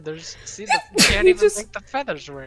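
A single sharp sneeze bursts out mid-conversation, loud and close, with people talking casually before and after it.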